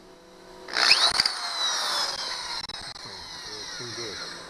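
A power drill fitted with a titanium bit bores a screw stud on a broken fuel connector of a Johnson 90 hp outboard engine, whining loudly and steadily for several seconds, with someone speaking briefly toward the end.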